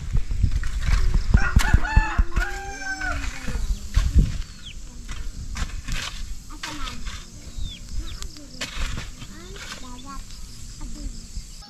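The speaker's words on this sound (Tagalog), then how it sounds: "Inuukay na ng manok yung aming sinusunog doon" Chickens on a Filipino farm near a smoky burned field clucking and a rooster crowing in a few drawn-out calls, close by, mixed with occasional talk and rustling.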